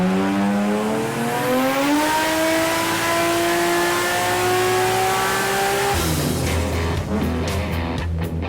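A Barra-engined Bedford is being tuned, and its engine revs loud and close in one long sweep that climbs steadily in pitch, then drops abruptly into a lower, rougher idle near the end.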